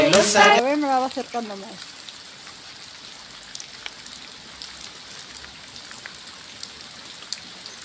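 Steady rain patters and hisses on surfaces in a broad, even wash, close by, with a short burst of a voice at the very start before the rain carries on alone.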